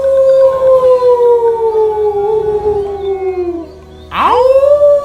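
A werewolf howling at the moon, a long loud wolf-like howl that slides slowly downward, breaks off, then rises into a second sharp rising howl, alone with no talk.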